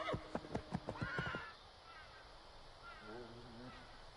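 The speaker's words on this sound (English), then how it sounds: "Was that our horses or someone else's horse?" Horses whinny in Assassin's Creed III Remastered, with loud, shrill neighs over quick rhythmic hoof clip-clops up close early on, then fading into a quieter snowy outdoor ambience with a softer, drawn-out whinny near the end.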